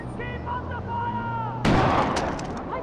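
Sudden burst of gunfire in Far Cry 4, a loud sharp volley cutting in after a stretch of quieter ambient game sound with tonal background music.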